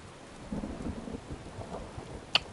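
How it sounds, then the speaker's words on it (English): Rain and rolling thunder from a storm in the video game Final Fantasy 7 Rebirth, a steady wash of rainfall with low rumbles underneath and one brief sharp crackle near the end. "I don't like the rain. I hate it. I hate the rain."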